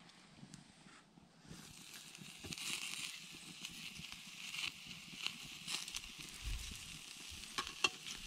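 Meat sizzles on a skewer over a campfire at an outdoor tarp-shelter camp, a quiet crackling hiss with scattered pops and small clicks, close by and steady after a near-silent start.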